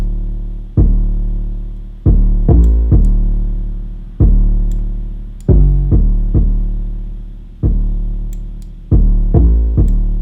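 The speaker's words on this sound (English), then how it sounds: "Now we're going to throw on this distortion plugin, and we're going to mess with some of this." A distorted 808 bass plays in a loose pattern of punchy, booming hits. Each note has a hard attack and a long, fuzzy, saturated tail that sustains and fades. Faint high clicks sit above it, and there is no talking.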